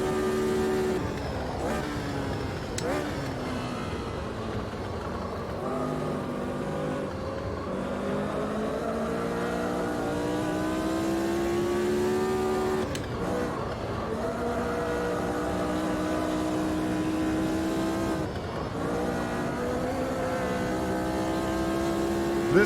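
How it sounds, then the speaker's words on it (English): A five-gear race car engine in the racing game Automobilista 2 drones steadily at high revs, its pitch climbing and dipping through gear changes, loud and continuous throughout. "Love the sound of this car."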